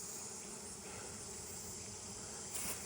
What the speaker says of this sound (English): So it's the next day and we actually have a thriving beehive